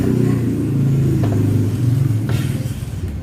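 Honda car engine revving with a fault, steady low rumble that surges and eases, loud and close with no talking over it.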